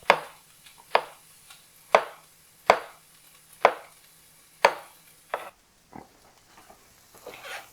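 A knife chops through beef on a cutting board in about eight sharp, evenly spaced strokes, close and distinct, ending with a few lighter taps and no talking.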